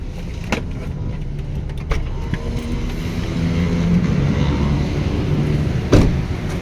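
A car is eased into a parking slot during a driving lesson, its engine giving a steady low rumble throughout, with a few faint clicks and knocks from the cabin and a sharper thump near the end.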